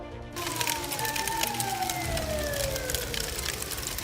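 An ambulance siren wails in a slow downward glide, fairly distant, over a rattling mechanical clatter and low rumble, during a power plant fire safety drill.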